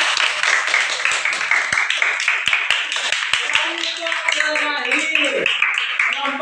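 A classroom of students claps for a presenting group during an Islamic studies lesson; scattered claps under ongoing chatter and background noise, with a sliding tonal sound near the end.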